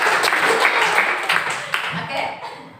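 Applause and clapping from a classroom of students during a teaching practice session, a fairly close, dense patter of many hands lasting a few seconds with voices mixed in.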